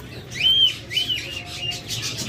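A pair of lovebirds, a creamino opaline pair, chirps close by with shrill, drawn-out whistles and quick tweets that repeat through the moment, loud and clear with no talk.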